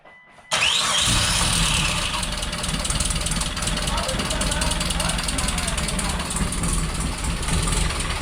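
A Mitsubishi Eclipse's 4G64 engine cranks and catches about half a second in, then keeps running loud and rough with a steady, uneven roar; voices may sit faintly in the background.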